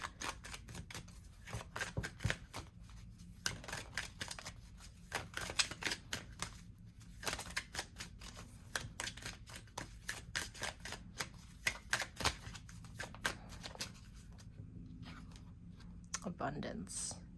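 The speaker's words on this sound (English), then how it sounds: "let me get a oracle card first" Oracle cards shuffled by hand for a tarot reading, giving dense bursts of crisp clicks and papery flutters that come and go over a low steady background.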